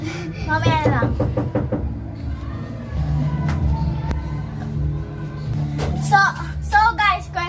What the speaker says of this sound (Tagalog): kasi may kumakatok.